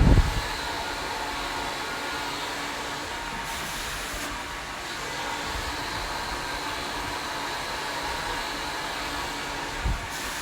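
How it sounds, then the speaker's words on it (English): A hair dryer runs steadily as a hairstylist blow-dries a client's hair, a loud, close, continuous whoosh lasting several seconds with slight shifts in pitch as the airflow moves, and no one speaking. "I can go blow dry like this."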